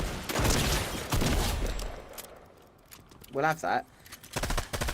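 Rapid LMG machine gun bursts in the Fortnite battle royale game, loud spray-style gunfire in several runs mixed with a player talking over the shots.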